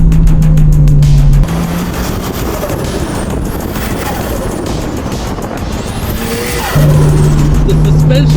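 A drift car warms its tires with loud, sustained engine roar and a steady tire squeal hissing underneath. The revving holds through the whole stretch and dips in the middle. A voice is heard near the start and again at the end.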